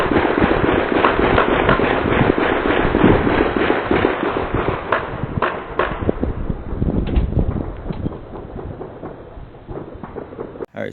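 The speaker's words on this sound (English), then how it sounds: "there was a lot of gunshots" New Year's Eve gunshots and fireworks crack and pop in dense, overlapping bursts, some sharp and near and others rumbling in the distance, in a continuous barrage caught on a Ring camera.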